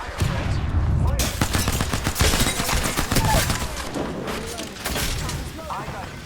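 Rapid gunfire in the Apex Legends video game, dual pistols firing in dense bursts and fusillades, loud and close, with voices talking over the shooting.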